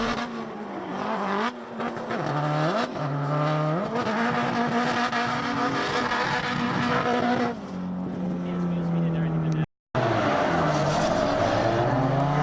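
Drift cars race around a track at a Lone Star Drift round, engines revving and wailing with rising and falling pitch and tires squealing, loud and continuous with a brief dropout, while a commentator talks over it.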